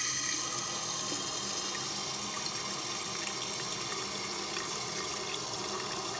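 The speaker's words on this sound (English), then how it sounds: "And so now I'm gonna rinse it with some water." Water runs steadily from a faucet into a bath vanity sink for rinsing, a constant close hiss and splash with no breaks and no voices.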